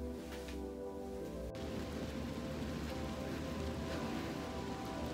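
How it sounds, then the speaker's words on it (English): Steady rain falls outside after work, a soft continuous patter and hiss that stays even and fairly faint throughout, with no voices. "Finished work and it's raining."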